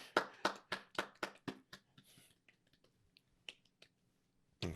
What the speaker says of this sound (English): Let's clap it up for Robin Fenty.